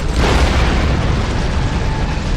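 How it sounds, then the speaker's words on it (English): Detonated charges explode in Star Trek Online, a loud, sustained, rumbling blast that fills the whole stretch without letting up. "Detonating charges."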